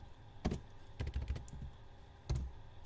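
A computer keyboard is typed on in short bursts of close, crisp key clicks, a few quick presses, a pause, then more, while writing a simple Python program.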